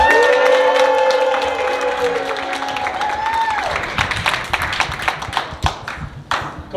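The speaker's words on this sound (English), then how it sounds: "Let's give all the players a round of applause." Applause for basketball players at a winter season event, with scattered claps and taps that grow through the second half, following a sustained tonal sound early on.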